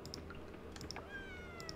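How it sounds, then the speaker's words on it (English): Short, high meows from cats in the farming game Coral Island, several quick calls over a faint background with a soft rising chirp near the end. "Look at the cats."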